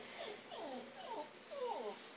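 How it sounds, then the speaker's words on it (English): A dog gives four or so short, high yelping barks in quick succession, fairly faint, with no talking. "Did Bailey just bark in your ear"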